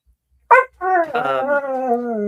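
Dogs at home give a loud single yelp or bark, then a drawn-out whining howl that wavers and slowly fades, close by with no talking over it.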